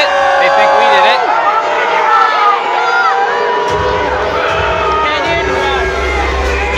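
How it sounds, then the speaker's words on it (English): Crowd noise swells at a junior hockey game between the Mississauga Steelheads and Erie Otters, a loud sustained roar of fans cheering that builds and carries on through the whole stretch, with a deeper rumble entering partway through. "you can tell the crowd is happy"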